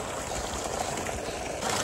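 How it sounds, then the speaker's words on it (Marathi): Water is poured while washing clothes at home, a close, continuous rushing splash with no one speaking. "त्याच्यावर पाणी टाका आणखी।"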